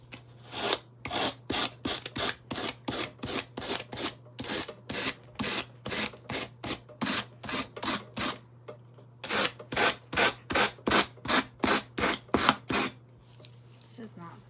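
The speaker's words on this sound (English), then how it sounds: "I'm gonna sand these edges off." Edges of a craft block being sanded by hand, a brisk rhythmic series of rasping strokes in two bursts with a brief pause between, close and fairly quiet over a low steady hum.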